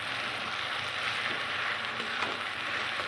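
Garlic, green chilli and radish-leaf spice paste frying in hot oil, a steady close sizzle holding evenly throughout without pauses.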